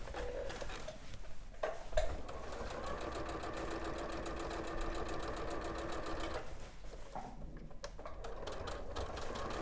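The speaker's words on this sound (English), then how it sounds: "And I'm gonna sew right side together." A domestic sewing machine stitches the lining of a cushion, right sides together, with a fast, even mechanical chatter that starts after a few brief handling knocks, runs steadily for several seconds, pauses, then resumes, with no talking.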